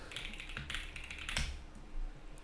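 Wooting gaming keyboard typed on in a quick, irregular run of soft, close key clicks, faint and alone.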